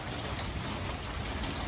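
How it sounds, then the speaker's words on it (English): Steady rain falls on a wet Wednesday, a continuous broadband patter and hiss of drops on surfaces that stays even and fairly close throughout, with no voices. "But we've got rain."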